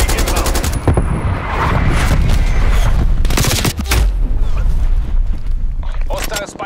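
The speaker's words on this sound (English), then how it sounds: "Artillery inbound." Artillery strike explosions in the Call of Duty Black Ops Cold War multiplayer mode, loud repeated booms and rattling bursts that overlap into a dense barrage close by, with game voices heard over them.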